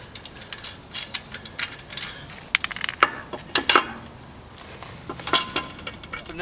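Lug nuts spun off a car wheel one at a time with a spinning lug wrench while changing a flat tire, giving faint metallic clinks and ratcheting clicks in scattered bursts over a quiet background.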